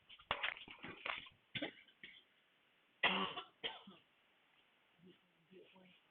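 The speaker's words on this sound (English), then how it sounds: "I have got to kill this cough before I kill your ears." Several harsh coughs in short bursts, close and fairly loud, followed by quieter throat sounds.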